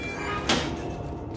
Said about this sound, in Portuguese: o cara estourou a porta